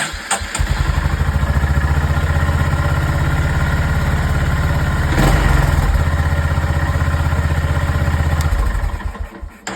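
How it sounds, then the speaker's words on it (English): Honda GB350 single-cylinder motorcycle starting with a brief crank and catch, then settling into a loud, steady, thumping idle heard up close, with a short burst of added noise midway. "But if we start the engine,"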